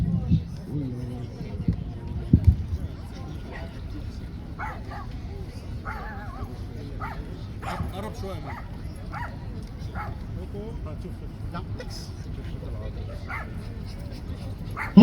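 A reactive dog on a leash barks, yips and whimpers in short scattered bursts at a dog show training workshop, heard faintly over steady crowd noise and background chatter.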